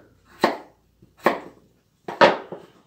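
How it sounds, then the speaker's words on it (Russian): Knife chopping potatoes into large chunks on a cutting board, three distinct sharp chops spaced about a second apart, close and clear with no talking. "Картошку мы нарезать сильно мелко не будем."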